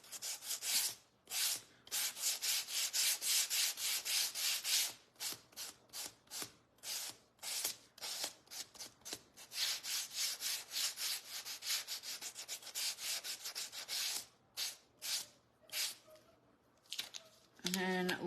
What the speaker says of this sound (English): And then let me sand across, create some character.